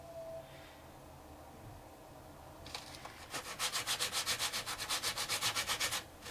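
A carbon brush is sanded to size against an angle grinder: a quiet start, then from about a third of the way in, a steady run of loud, rhythmic rasping strokes close by with no talking.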